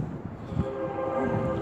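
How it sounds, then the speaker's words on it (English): A steady low rumble with faint tonal lines runs throughout, like a train moving somewhere in the distance, heard from a car dealership lot, with no talking. "It's a train you hear in the background there."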